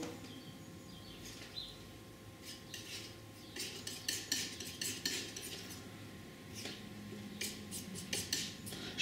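A palette knife scrapes and taps on a palette while mixing oil paint, giving soft clinks and scraping strokes in irregular bursts against a quiet room hum.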